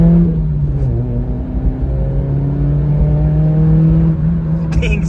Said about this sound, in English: So this is first pull since swapping over the muffler.